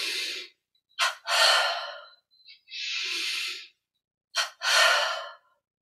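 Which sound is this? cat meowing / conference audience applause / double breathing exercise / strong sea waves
double breathing exercise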